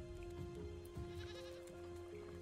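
A goat bleating in the survival video game Raft, heard faintly and somewhat distant over a steady tonal hum and low background clatter from the game.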